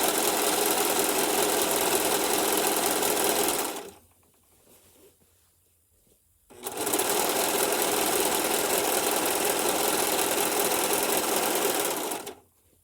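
A Singer Profinish serger stitching fabric runs in a loud, steady mechanical whir, stops for a few seconds of near silence, then sews again in a second long run before halting.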